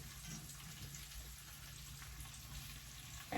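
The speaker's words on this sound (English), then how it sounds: "so we'll let it cook on that side" Liver frying in a pan, cooking on one side, gives a steady soft sizzle with faint crackle, continuous and close throughout.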